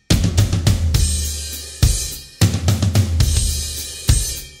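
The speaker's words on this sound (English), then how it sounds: "If you do it with proper timing, it should sound like this." A song's intro drum beat with floor tom hits and a hi-hat keeping steady time, loud and close, in repeated phrases broken by short gaps and accented crashes.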